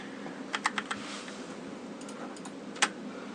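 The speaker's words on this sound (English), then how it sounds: "So you hear that sound that the keyboard's making?" Sparse keystrokes on a Penclic MK1 mechanical keyboard, a quick run of clicks followed by a few isolated taps, faint against room hiss.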